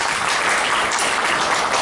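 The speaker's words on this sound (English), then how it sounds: "Please give her a round of applause." Audience at a talk on hypnosis giving a round of applause; a short, dense burst of clapping from a crowd, loud and continuous without speech.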